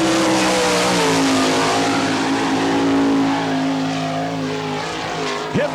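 A race car on an Eagle chassis runs a lap at the All Star Circuit of Champions in Barberville, Florida, its engine a loud, sustained drone that holds steady and then slowly fades, with no voices.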